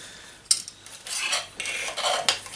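Metal utensils clink and scrape together as an Opinel knife and a spork are handled at close range, with a sharp clack near the start followed by rubbing, rattling contact.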